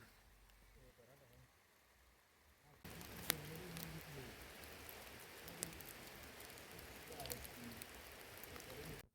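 Steady rain patters down, growing heavier partway through, with a few sharp drips standing out against the constant hiss.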